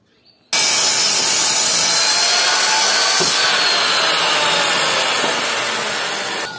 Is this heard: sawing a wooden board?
yes